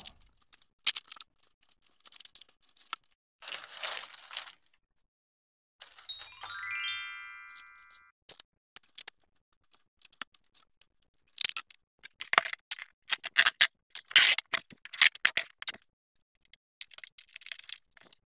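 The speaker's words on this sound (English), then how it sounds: "now the calming sounds of packing" Paper crinkling and rustling in irregular bursts while a present is wrapped with wrapping paper, close and sharp with pauses between handlings, and a brief rising ring tone in the middle.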